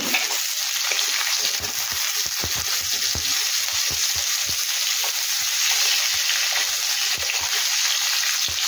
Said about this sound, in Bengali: কুমড়োটা দিয়েছি, কুমড়োটা একটু ভেজে নিতে হবে।